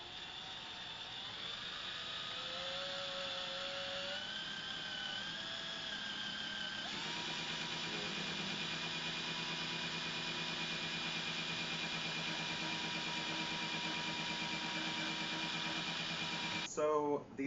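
A drill bores a 3/8-inch hole into a water storage container, giving a continuous, fairly quiet motor whine that climbs in pitch at first and then holds steady.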